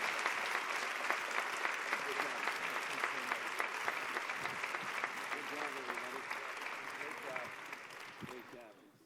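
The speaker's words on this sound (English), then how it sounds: "Can we have a round of applause for all of them?" Audience at a social medicine symposium applauding the panelists, a steady, dense round of clapping that holds evenly before fading toward the end.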